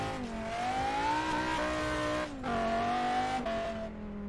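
An inline five engine revs in a sustained, rising and falling whine with a brief drop mid-way, moderately loud with no talking.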